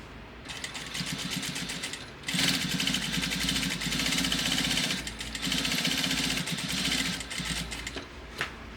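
Sewing machine stitching a tailored vest, running in long continuous bursts with a rapid steady rhythmic whir and a brief pause, close and clear, with no voices.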